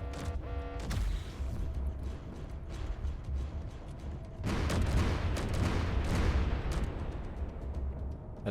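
Weapons fire in a Space Engineers battle: a continuous roar of rapid booms and crackling blasts that swells louder midway, with no voices.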